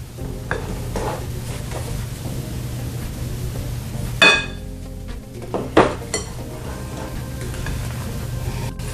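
A utensil works flour into thick chocolate chip cookie dough in a bowl with soft, steady scraping and stirring, broken by two sharp clinks of metal against the bowl, and no one talks.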